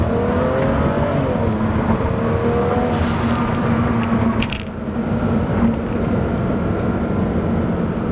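A stage 2 MHD-flashed BMW E90 335i xDrive with the N54 engine pulls away slowly in second gear over a bumpy road. Heard from inside the cabin, the engine drones loud and steady with a rising pitch and broadband road noise throughout.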